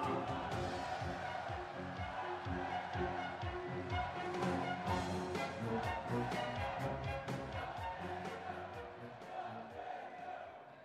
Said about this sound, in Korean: 뜨거운 박수로 맞아주시기 바랍니다